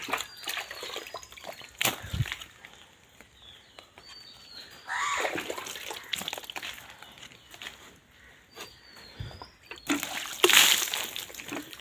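Water is splashed and dripped onto a jackfruit tree to wash off dead insects, giving intermittent outdoor sloshing and spattering bursts with brief pauses between them.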